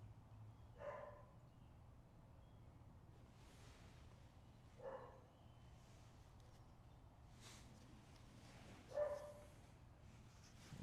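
A dog barks faintly in the distance, single barks spaced several seconds apart over a low steady hum.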